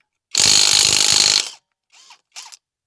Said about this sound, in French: On va prendre notre clé à choc.